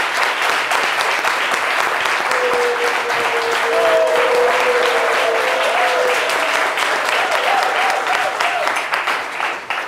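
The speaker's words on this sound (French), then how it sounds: "Mais applaudissements pour lui, s'il vous plaît." Loud, sustained applause from a studio audience welcoming an artist onto a live French talk show, dense clapping that continues without pause, with faint voices and whoops mixed underneath.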